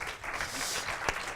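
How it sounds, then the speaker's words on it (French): A short, dense wash of audience applause at a business conference on mobile commerce and cinemas, steady handclapping heard close for just over a second. "On peut l'applaudir."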